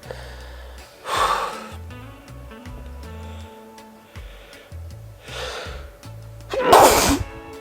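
Two loud sneezes burst out over a background of music, one near the middle and a stronger one near the end, each a sharp explosive blast of breath.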